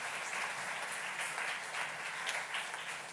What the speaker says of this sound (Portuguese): nós damos também uma grande salva de palmas também